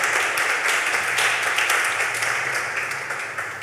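Applause from a church gathering, a dense, bright patter of many hands clapping together, loud and even before tapering slightly toward the end, with no clear speech on top.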